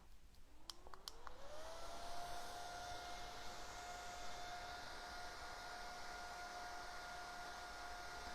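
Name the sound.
mini electric fan drying paint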